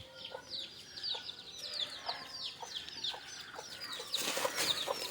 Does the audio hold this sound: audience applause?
no